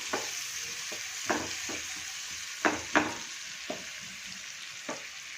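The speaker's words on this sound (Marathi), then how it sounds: "इथे बारीक चिरलेला कांदा हे छान परतून घ्यायचे" Finely chopped onion sautéing in a pan for masala pav, a steady close sizzle broken by several sharp bursts as it is stirred, with no voices.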